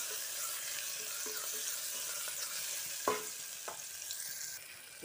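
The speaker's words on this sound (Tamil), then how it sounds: "தக்காளி கொஞ்சம் நல்லா வதங்கட்டும்." Tomatoes sautéing in a pan while cooking egg macaroni, a steady soft sizzle with a few sharper stirring clatters near the middle, close and continuous, no talking.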